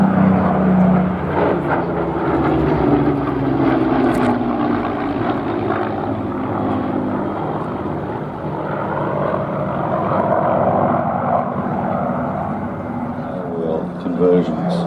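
Hawker Hurricane and Supermarine Spitfire propeller fighters fly at an air show, giving a loud, continuous piston-engine drone that swells and fades slightly, with a voice speaking over it.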